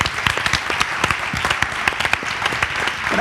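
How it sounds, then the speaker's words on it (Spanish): A crowd applauds a rapper from a band during a live interview show, with dense, steady clapping and a few louder sharp claps throughout. "¡Un aplauso para el rap!"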